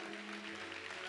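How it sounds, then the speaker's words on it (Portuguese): A church congregation claps together, a dense, steady patter of many hands that holds evenly for a brief moment with no pause. "Você pode dar uma salva de palmas àquele que é digno."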